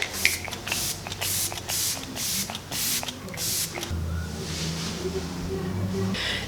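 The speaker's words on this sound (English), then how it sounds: "I'm gonna use the Stay All Day Blue Light Micro Setting Mist." An e.l.f. Stay All Day Blue Light Micro Setting Mist bottle sprays in a rapid series of about seven or eight short, close hissing pumps, followed by softer rustling.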